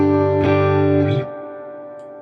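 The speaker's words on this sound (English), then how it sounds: "that reverb is going wild as well." A loud electric guitar chord rings through a Fender Deluxe Reverb amp, then cuts off, leaving a long, washy spring reverb tail fading out over a second.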